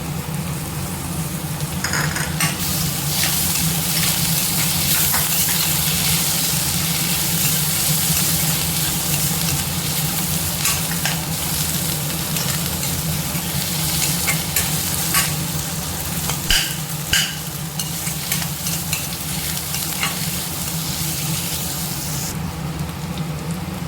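Tomato frying in a pan with a steady, loud sizzle across the whole clip and occasional clatter from stirring, part of cooking a dish made with kambu (pearl millet); no talking.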